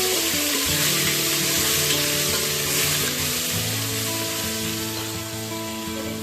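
Pieces of chicken frying in hot oil for a village-style chicken curry, giving a steady loud sizzle that holds unbroken throughout with no talking over it.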